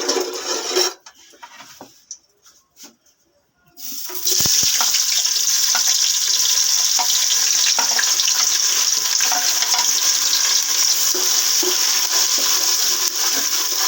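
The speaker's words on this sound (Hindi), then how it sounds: "प्याज को फ्राई कर लेंगे।" Onions dropped into hot oil, a few seconds of scattered clatter and quiet before a loud, steady close sizzle takes over and holds to the end.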